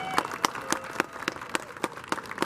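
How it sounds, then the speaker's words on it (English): A crowd applauds a team posing for a group photo at an inauguration ceremony, giving a huge round of applause: sharp, evenly spaced loud claps ring out in a steady rhythm, close and prominent. "Let's give them a huge round of applause"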